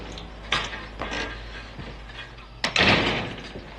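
A door is pushed shut indoors with a series of bumps and knocks, ending in a sharp, loud slam followed by a rattling settle.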